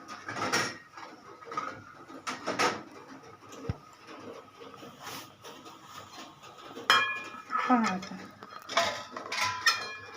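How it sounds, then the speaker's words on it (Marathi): Upma is served from a pot onto a plate, a spoon scraping and clinking against metal in scattered bursts with quiet gaps between. "आपल्याला आता मी प्लेटमध्ये काढत आहे पहा"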